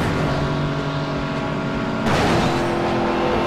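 Racing car engine in the video game Midnight Club 3 DUB Edition Remix roars steadily, then a sudden louder burst of noise hits partway through as the car accelerates or collides, continuing at high volume.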